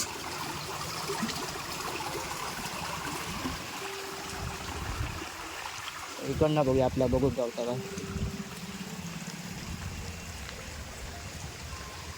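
A small stream runs past farm fields after scant rain, giving a continuous soft trickling wash beneath someone speaking, with a brief louder burst of sound in the middle.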